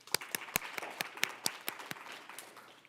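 An audience at a teacher-of-the-year awards ceremony applauds, a faint scattering of crisp individual hand claps with some louder close claps standing out.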